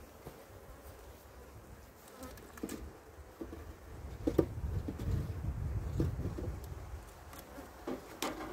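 Honey bees buzz around an open hive during an inspection in swarming season, a close, fluctuating hum that swells and fades, with occasional louder passes near the listener.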